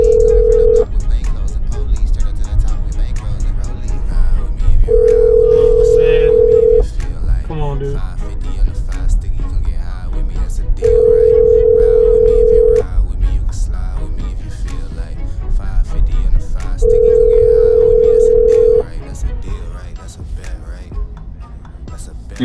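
Outgoing phone call ringback on a cell line, four long repeated rings spaced several seconds apart, heard fairly clearly over low background noise before the line switches to voicemail.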